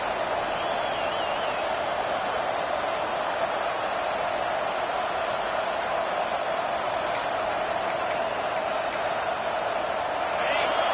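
A dense, steady roar from a large football stadium crowd fills the whole stretch, loud and unbroken, with a few sharp accents near the end.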